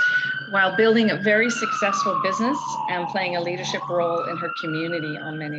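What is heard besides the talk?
emergency siren in downtown Victoria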